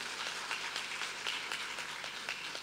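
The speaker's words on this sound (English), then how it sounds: "Everyone give her a round of applause" Audience applause in a church during a Palm Sunday morning service, a steady patter of many hands clapping at moderate distance, continuous and without talk.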